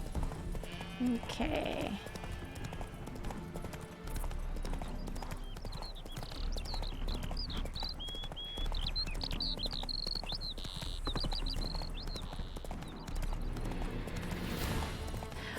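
In The Witcher 3, a horse trots along as rhythmic clip-clopping hooves, with a brief whinny-like call and a short spoken word over the riding.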